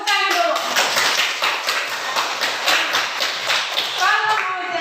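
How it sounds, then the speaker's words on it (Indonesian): A class of children claps hands together in a dense, steady burst of applause lasting several seconds, with faint young voices mixed in near the start and end. "Tepuk tangan dulu."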